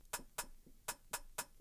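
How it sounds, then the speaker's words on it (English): Swung electronic hi-hat pattern in a garage track, short bright ticks in an uneven shuffled rhythm, fairly quiet and alone. "Add this swung hat rhythm,"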